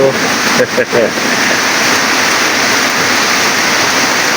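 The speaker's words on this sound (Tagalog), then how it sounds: "Bugnaw-bugnaw ang ulan" Cold rain pouring steadily outside near a fishpond, a loud, dense, continuous hiss of falling water with a brief voice at the start.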